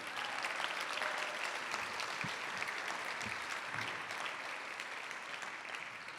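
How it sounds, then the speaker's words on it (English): Audience applause at a memorial lecture, a sustained wash of many hands clapping that stays fairly even throughout and fades slightly toward the end. "Please, a round of applause."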